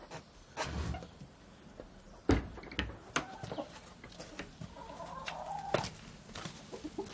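Chickens on a rural farm in Caldevilla cluck in short, scattered bursts at close range, with some sharper calls and background rustling, while someone speaks nearby.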